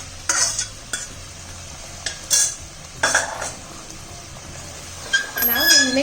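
Hot jaggery syrup being mixed into grated coconut: close, wet stirring and scraping bursts against a pan, with utensil clinks and a brief sizzle, plus a voice speaking near the end.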